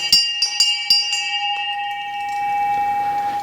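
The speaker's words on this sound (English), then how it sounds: "ring the bell, tell everyone school is starting" An old school hand bell is rung at a transport museum: a quick burst of about five bright clangs in fast succession, then a long shimmering ring that fades away, close and alone.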